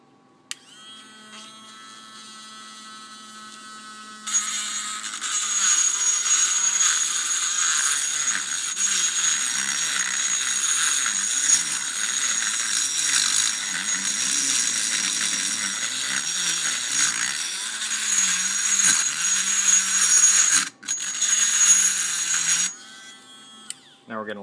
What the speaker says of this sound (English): As you can hear, the bit adjuster at the end is starting to hit the bayonet chamber there.